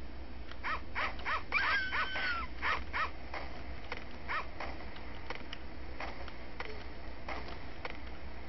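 Dog sounds in a video game, a series of short whimpering, moaning calls repeating through the scene over a steady low background hum, with no talking.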